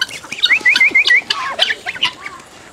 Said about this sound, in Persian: این مرغ شاخداره چهچه خوشحالیشه